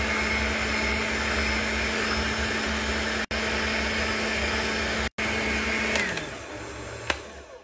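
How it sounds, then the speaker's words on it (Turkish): A food processor whisking eggs and sugar until foamy, a loud steady motor whir held throughout, with two brief cutouts and the motor slowing down toward the end. "Mutfak robotuyla güzelce köpük köpük olana kadar yumurtayla şekeri çırpıyorum."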